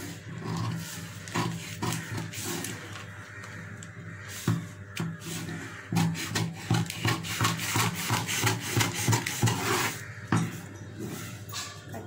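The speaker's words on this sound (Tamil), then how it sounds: "இப்போ இந்த கையை கட் பண்ணிடலாம்." Scissors cut through a paper blouse pattern in a steady series of crisp, close snips and rasping slides, with a quiet background hum.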